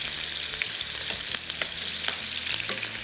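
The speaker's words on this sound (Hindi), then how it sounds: "ये डाल देती हूँ मैं, इसको फ्राई कर लूँगी" Ingredients frying in a pan for smoky fish pulao, a dense, close sizzle and crackle running throughout, with soft scraping hints of stirring and no speech.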